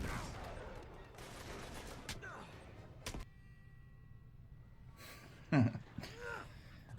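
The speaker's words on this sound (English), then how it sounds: "Just like an abrupt explosion." Game explosions and gunfire-like bursts in Uncharted 3, a few sharp blasts and thuds scattered over a steady background rumble, with one loud hit near the end.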